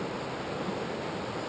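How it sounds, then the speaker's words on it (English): Steady, full rushing water from a creek running beside a hiking trail on the Pacific Crest Trail near Eagle Creek, continuous and close with no voices. "it's the creek runs next to the trail"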